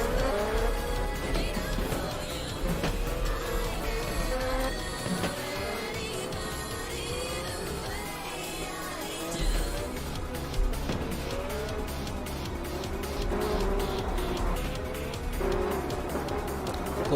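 Race car engines whine through shifting gears in the rFactor racing game, with a busy, continuous roar of several cars close together and occasional tire squeal throughout.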